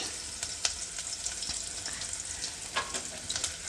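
Onions frying in a pan for a fenugreek and spinach sambar, a continuous close sizzle with scattered crackles and pops and light stirring, no talking.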